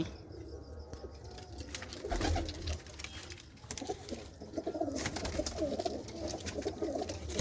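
Pigeons coo in soft murmuring bursts amid rustling and shuffling in a loft, the calls close but muffled, with a brief thump partway through; a prized white-marked pigeon from a racing line is among them.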